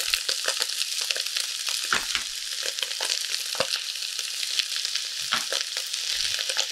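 Onions sizzle and fry in a pan with salt and pepper, a steady close crackle dotted with stirring scrapes and small pops.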